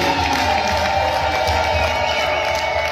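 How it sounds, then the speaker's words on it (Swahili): A church congregation cheers and claps for Jesus during a Swahili worship service, a dense, steady roar of crowd noise holding loud throughout with no breaks. "Shema nisaidia kumpigia Bwana Yesu makofi na kelele."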